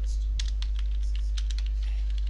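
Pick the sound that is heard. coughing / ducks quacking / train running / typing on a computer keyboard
typing on a computer keyboard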